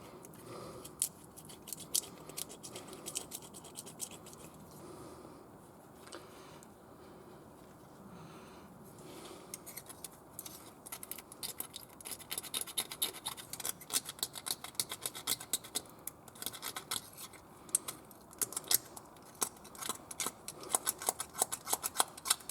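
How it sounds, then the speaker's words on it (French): Scraping old glue sealant off the mating face of a Suzuki Swift 1.3 DDiS gearbox, heard as quiet irregular scratchy rasps that grow busier and louder in the second half, with no talk. "je vais commencer à nettoyer, à gratter la colle"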